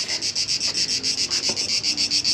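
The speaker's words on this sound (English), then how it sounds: "This is loud. cicadas." Loud, rapid pulsing cicada buzz on the Greek island of Paros, throbbing in a steady rhythm close by with a faint voice underneath.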